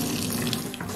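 Boiled water from an electric kettle is poured onto plaster sprinkled with baking soda, making a steady, close, gushing splash with no voices.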